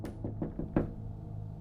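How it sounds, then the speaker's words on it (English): Several knocks at a door in a quick series, fairly close, then a slightly louder final rap, followed by a steady low background hum. "Around an hour later, there was another knock at the door."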